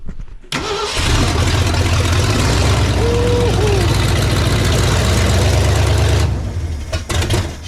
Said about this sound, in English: So, old man, crank it up, get it running, rev it up